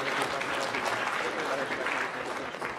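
A crowd at a local rock band contest bursts into sustained, dense applause and cheering for a band, loud and steady throughout.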